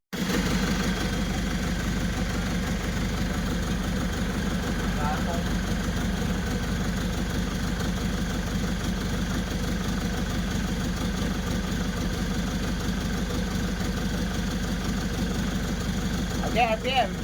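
An Isuzu Trooper engine idles steadily and close up for the whole stretch, a constant low rumble with faint mechanical ticking, while voices talk intermittently over it.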